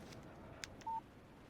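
A phone chimes with a short electronic text-message alert in the Alan Wake video game, one brief tone after a couple of faint clicks over a quiet background.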